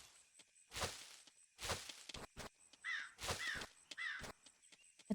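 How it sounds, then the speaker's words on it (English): Crows in Cattle Country reacting to the player passing by, giving several separate caws mixed with whooshing wing flaps and footstep-like thuds, faint and irregularly spaced. "the birds reacting to me coming by was pretty cool"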